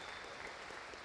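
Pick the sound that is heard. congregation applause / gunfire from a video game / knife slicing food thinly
congregation applause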